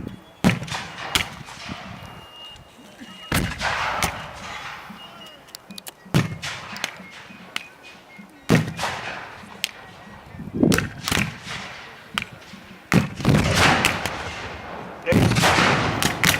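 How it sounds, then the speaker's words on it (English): Small Confederate field guns firing at a Civil War battle reenactment, loud booming reports at irregular intervals, some overlapping, with crackling bursts and a rumbling outdoor background between shots. "The Confederates are using small field guns, which are really small, hence their shorter range."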